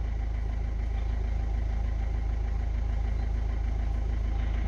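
Dacia Logan diesel engine idling steadily after a fuel filter change, a low, even rumble with a faint rhythmic clatter, close up and unbroken, with no voices.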